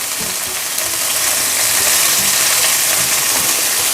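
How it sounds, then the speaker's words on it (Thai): Washed, drained bean sprouts stir-fried in a hot pan for a Thai oyster omelette, giving a loud, steady, hissing sizzle that runs without a break, with faint clatter underneath. "อันนี้ใส่ลงไปผัดได้เลยนะครับ"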